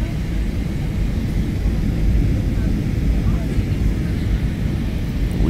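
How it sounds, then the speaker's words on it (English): Inside the cabin of a presidential airplane coming in to land, a steady, loud low-frequency engine and air rumble drones without a break. "The presidential plane I'm riding on."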